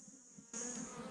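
Honey bees buzz around a hive during relocation of a whole colony in Paraguay, a faint drone that suddenly swells louder halfway through as bees come close, continuous and without talk.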